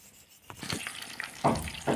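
Large prawns frying in a pan, a steady sizzle with scraping stir strokes growing louder toward the end.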